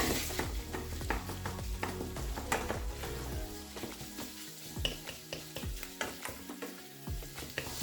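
Beef mince sizzles and fries in a hot pan while a utensil stirs and scrapes through it, producing steady crackling with repeated scraping strokes and occasional clinks, loud and close with no talking.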